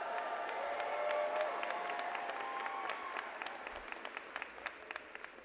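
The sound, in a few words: audience applause at commencement ceremony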